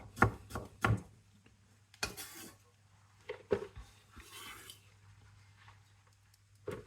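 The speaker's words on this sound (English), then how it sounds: "this is the last quarter of the red cabbage. Just finish slicing this up" Knife slicing through a quarter of red cabbage on a board, a few crisp, spaced chops and cuts close by with quiet pauses between, no talk.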